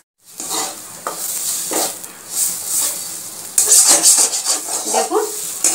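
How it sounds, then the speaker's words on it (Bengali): Pointed gourd paste is stirred continuously in a pan, the spoon scraping steadily through a thick, sizzling mixture in a close, busy run with louder scraping toward the end. "ক্রমাগত এটাকে নাড়তে হবে, তা না হলে পরে পটলটা কিন্তু নিচে লেগে যাবে।"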